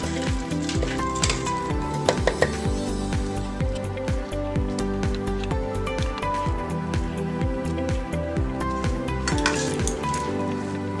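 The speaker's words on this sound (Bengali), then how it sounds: "চিড়েগুলো আমি প্রথমে একটু ভেজে নিচ্ছি।" Flattened rice (chira) being fried in a pan, a busy crackling sizzle full of dense rapid pops and ticks like rain on a surface, with scraping stirring sounds mixed in, continuous and close with no speech.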